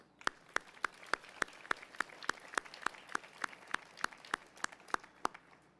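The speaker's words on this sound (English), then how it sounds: "So we applaud their continued dedication and service to our community and thank them all wholeheartedly" An audience claps for volunteer firefighters at a city address, a sparse, evenly paced run of about twenty distinct claps, fairly faint, with no talk over it.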